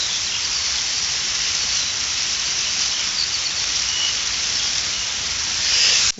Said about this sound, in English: rain on a tent isn't a noise that all campers want to hear